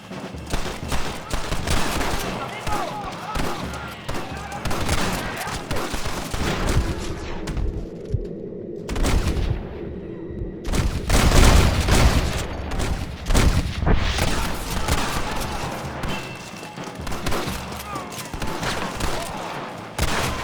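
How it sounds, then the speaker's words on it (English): Dense gunfire rattles through a Red Dead Redemption shootout, with rapid overlapping shots and booms nearly without pause, a brief lull in the middle and then more firing, with voices shouting over it. "Stop shooting at me!"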